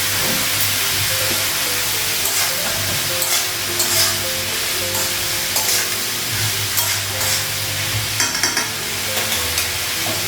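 Green chillies frying in a pan with oil, a steady close sizzle and hiss with occasional stirring scrapes throughout, no voices.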